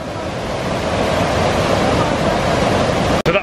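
Rushing jungle waterfall in Jamaica, a steady, loud wash of broadband water noise that fills the whole stretch, ending in a brief dropout and a couple of bumps like handling noise.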